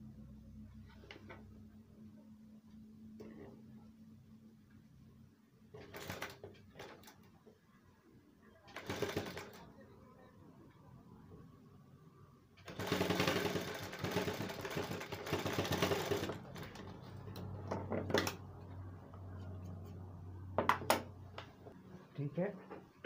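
An electric sewing machine stitches a shoulder pad into a coat sleeve in short whirring bursts and one longer run of several seconds, with a person talking quietly between the runs.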